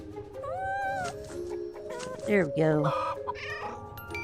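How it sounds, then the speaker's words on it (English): A cat meows from the video game Starsand Island among other chirpy farm-animal calls and clucks, short bright cries under light game music, with someone speaking briefly. "Let's also play with the cat."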